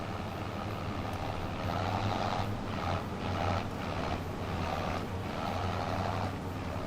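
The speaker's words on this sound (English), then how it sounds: "I do love the sound of that Ford tractor, though." Ford tractor engine in Farming Simulator 25, a steady low drone with a humming rumble that swells and dips in repeated surges as it runs through the gears, fairly loud and continuous with no talk.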